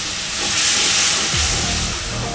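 Water from the mixer jar is poured into a hot pan of Bengali rui fish kalia masala, setting off a loud, continuous broad hiss and sizzle that swells and then slowly eases.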